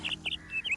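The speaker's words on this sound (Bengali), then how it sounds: "আর পাখিরা ঝিঝি পোকার কিছু ডাক শোনা যাচ্ছে" A small bird gives three or four quick, high chirps in a short burst, clear and close against a quiet background in the village of Padamchen on Sikkim's Silk Route in the late afternoon.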